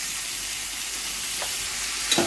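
Vegetables for pav bhaji are sautéed over high heat in a pan, giving a continuous even sizzle with a couple of soft stirring scrapes near the end; no talking.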